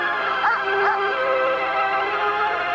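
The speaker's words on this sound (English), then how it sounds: "Now that's a dog." A dog in a 1998 TV commercial gives a couple of short yips and barks over a loud, steady bed of music, the animal sounds brief and partly buried in the mix.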